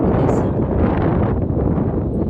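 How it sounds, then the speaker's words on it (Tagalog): Steady, loud wind buffeting the microphone, a continuous low roaring rumble with no clear voices. "Ang lamig ng simoy ng hangin."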